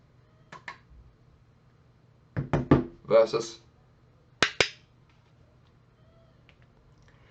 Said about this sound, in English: this mod is a lot louder than the Podium Advanced pedals on this one